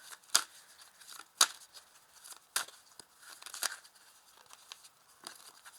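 Oracle cards being handled and laid out on a table, a run of soft papery rustles and crisp snaps, with a few sharper flicks standing out among quieter shuffling, close and fairly faint with no talking.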